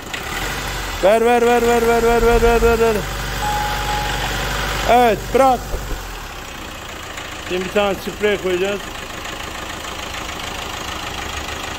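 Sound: car engine idling and revving after maintenance

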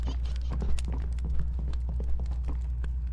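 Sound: footsteps in Poppy Playtime Chapter 3 video game

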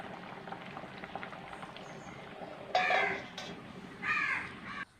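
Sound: fish curry with coconut and mango boiling in pot

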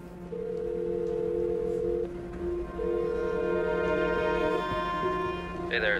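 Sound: telephone call ringing

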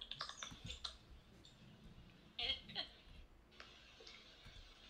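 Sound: typing on a computer keyboard

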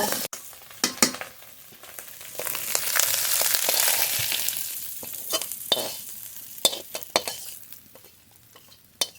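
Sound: frying in a wok

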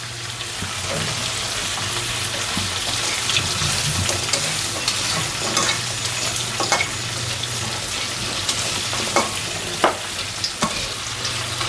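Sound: frying lentil dumplings (bori) lightly in a pan

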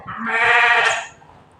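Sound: sheep bleating

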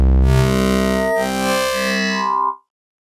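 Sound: Reason Europa synthesizer Morpher wavetable with shape increased

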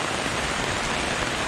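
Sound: rain falling at a riverside campsite

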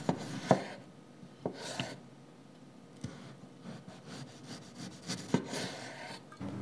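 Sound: knife slicing potatoes for chips

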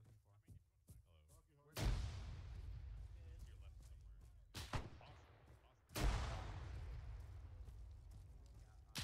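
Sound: gunfire, video game Arma 3

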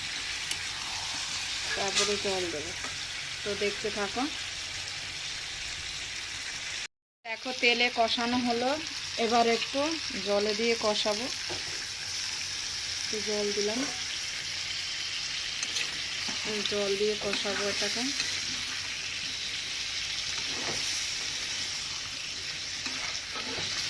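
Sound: chicken being sautéed and stirred in a pan

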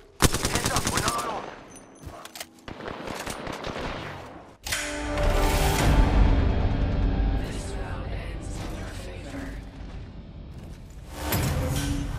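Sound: gunfire from the video game Apex Legends

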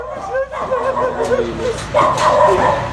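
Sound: dog barking in a video clip

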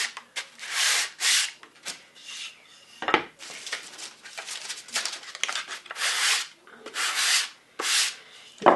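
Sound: sanding wood with 320 grit sandpaper

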